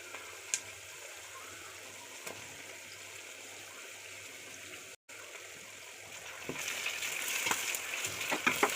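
Garlic and ginger frying with onions in a pan: a faint, low hiss that swells into a brighter, crackling sizzle toward the end, with occasional small ticks and no talking.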